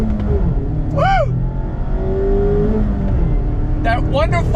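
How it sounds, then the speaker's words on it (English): A 2021 Mazda MX-5 Miata RF accelerates at full throttle, its engine droning loudly from inside the cabin, while a voice cheers and whoops over it. "we're in this 2021 Mazda Miata RF. Let's go on throttle."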